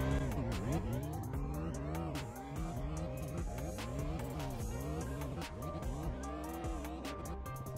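A car in the video game Vehicle Legends sliding around corners during a race, with a continuous looping engine drone that rises and falls as it revs through each turn, steady and close with no talk.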